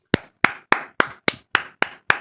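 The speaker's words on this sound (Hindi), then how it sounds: "एक काम करो, जोर से ताली बजाओ।" Eight sharp hand claps in an even, brisk rhythm, close and loud, each a crisp smack with a short decay and no talking between them.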